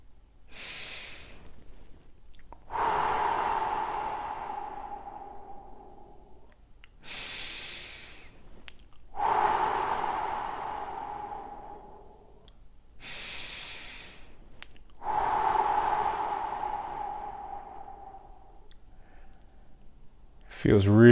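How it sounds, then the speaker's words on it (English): Three slow, deep breaths, each a long audible inhale followed by a longer, airy exhale, close and steady with brief pauses between them, in a quiet room. "we're going to start by taking some deep breaths again"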